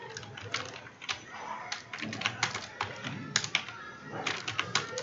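Light, rapid tapping on a computer keyboard while text is entered on a WordPress site, coming in uneven bursts with small pauses, close up and soft against a faint background hiss.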